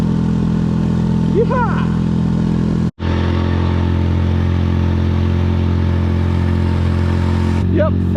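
A 4 horsepower four-stroke Parsun outboard pushes a Seapro 270 boat along at planing speed, giving a loud, steady engine drone that runs the whole time. A person whoops over it and a brief dropout cuts in near the middle.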